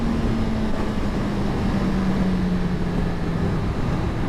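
Honda CB1000R Neo Sports Cafe 2018 motorcycle accelerating hard in second gear on a test ride, a dense engine roar under heavy wind rush with a faint rising tone, loud and continuous.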